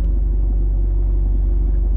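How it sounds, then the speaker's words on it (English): A Mercedes car engine runs at a steady low idle after starting, a constant deep rumble with no voices, close by. "Start the car."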